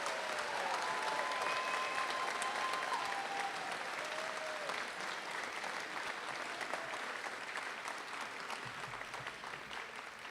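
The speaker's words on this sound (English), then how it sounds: "please join me in one final round of applause to wish all of our graduates and their families the best" Sustained applause at a spring university convocation for graduates and their families, a dense, even roar of many hands from a large audience that continues throughout and eases slightly near the end.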